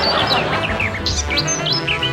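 Small birds chirp and tweet in quick, bright bursts, several overlapping calls close by over a continuous low background hum.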